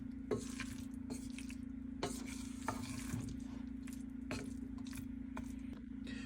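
Paneer and potatoes with masala being stirred in a pan, quiet scraping strokes and soft clicks of a utensil repeating every second or so over a low steady hum and faint sizzle, with no talking.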